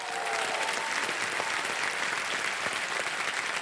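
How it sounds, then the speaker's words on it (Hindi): A television game show studio audience applauds steadily as guests are welcomed, a dense and even wash of clapping heard from a moderate distance. "मैं चाहता हूं कि जोरदार तालियों के साथ स्वागत किया जाए"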